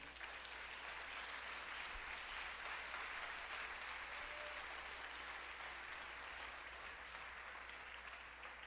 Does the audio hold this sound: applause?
yes